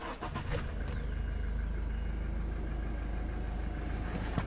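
Toyota Innova engine being restarted after repeatedly dying, cranking briefly and then settling into a steady idle heard close by and fairly quietly, with no one talking.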